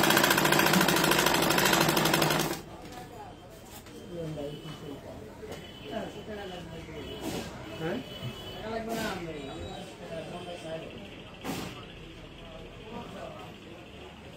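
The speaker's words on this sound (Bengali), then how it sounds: "ভাঁজ দিয়ে সেলাই করতেছি" Tailoring sewing machine stitching a folded seam: a loud, steady mechanical whirring for about two seconds, then it stops and a person talks over faint background noise.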